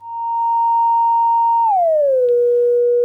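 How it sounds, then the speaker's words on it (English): Pure synthesizer sine wave tone, loud and clean, holding a steady pitch then gliding smoothly downward to a lower sustained note, alone with a faint low hum beneath. "It's best audible on the most harmonic poor wave, which is the sine wave right there."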